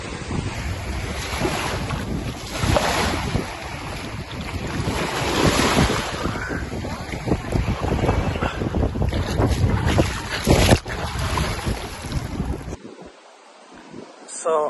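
Sea waves wash onto the shore under strong wind that buffets the microphone, giving a loud, churning roar for about twelve seconds before the sound abruptly thins out.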